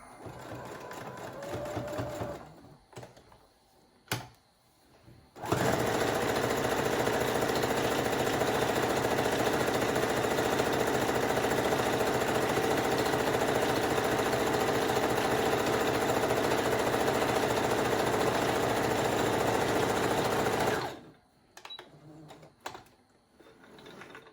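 A sewing machine stitches a fabric face mask strap in one long, steady run of fast mechanical whirring and clatter that lasts about fifteen seconds, with quieter handling noises before and after it.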